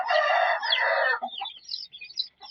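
A chicken gives a loud, drawn-out cackling call, followed by softer clucks and chirps close by with no talking.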